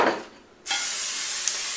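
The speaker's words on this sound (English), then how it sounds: "I'm going to spray it with Pam to make sure nothing sticks to the side" Pam cooking spray hisses onto a glass pan in a short burst, then a second steady, close spray follows after a brief pause.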